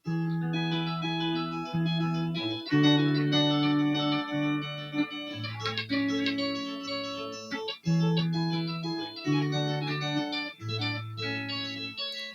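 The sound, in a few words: electric guitar through mood effects pedal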